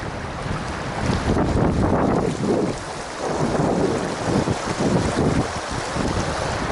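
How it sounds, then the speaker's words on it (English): Strong wind by a river roars and buffets the microphone continuously, with gusts rising and falling in a loud, rumbling rush. "I'm not gonna get any bugs in this crazy wind."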